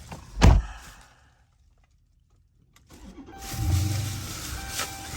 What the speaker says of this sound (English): when you start a motherfucking car